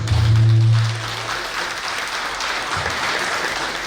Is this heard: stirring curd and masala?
no